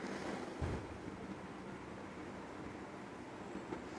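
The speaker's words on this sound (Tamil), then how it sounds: "பாலை ஊற்றி இது ரெண்டையும் சேர்த்து நல்லா நைஸாக அரைச்சிக்கலாம்" A blender grinds mango with milk for homemade ice cream, a steady, dense whirring roar that runs throughout at an even level, close by and with no talking.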